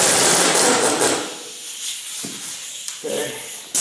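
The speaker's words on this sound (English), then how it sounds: "Okay. Done with that damn noisy air hose." A leaking air hose hisses loudly and steadily at first, then fades to a weaker hiss with a few clicks and knocks from work nearby, swelling again briefly near the end.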